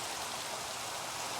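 Steady rain in Minecraft, a soft, even hiss of falling drops that holds constant throughout with no voices.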